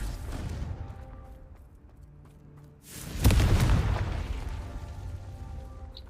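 A Confringo fire spell in Hogwarts Legacy goes off midway as a single booming blast that swells out of quiet game ambience and slowly trails away.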